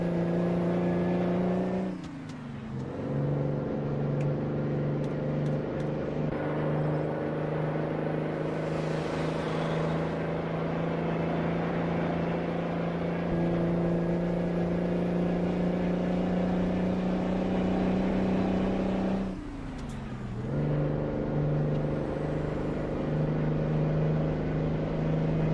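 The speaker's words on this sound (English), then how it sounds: "That engine sound." A truck engine in a trucking video game drones loud and steady throughout, with two brief dips where the tone drops and then climbs again, as if shifting gears; no one talks.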